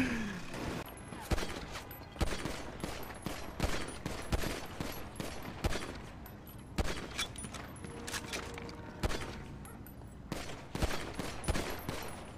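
Rapid bursts of gunfire in GTA 5 roleplay, a busy fusillade of close shots and automatic fire repeating throughout, loud and dense with little pause.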